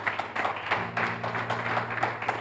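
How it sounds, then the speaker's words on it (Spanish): A church congregation claps during a Spanish sermon, steady rapid handclaps from many people, moderately loud, over a low hum. "¿Cuántos pueden dar un fuerte aplauso a esa palabra fiel y digna"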